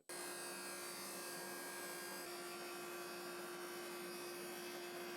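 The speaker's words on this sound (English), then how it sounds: "For this setup I have two tenoning discs spaced apart so they cut the perfect tenon in one pass" A shaper fitted with two spaced tenoning discs runs with a steady, loud high-pitched whine and a constant tonal hum, cutting a tenon on an entry door jamb piece held against a backer board.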